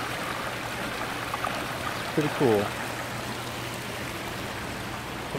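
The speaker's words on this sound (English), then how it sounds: "Just take a moment and listen to that water." Water running down a small stream through a garden pond walkway, a steady soft trickling wash throughout, with a brief voice speaking over it midway.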